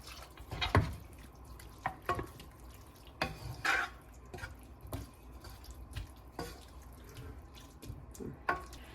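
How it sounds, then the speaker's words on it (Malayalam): Water splashes and trickles into a cooking pot of Kerala-style theeyal made with tomato and onion, in close, irregular pours and drips with soft knocks of the pot. "കുറച്ച് വെള്ളം കൂടെ ഒഴിച്ച് അടച്ച് നമുക്ക് വേവിച്ചെടുക്കാം."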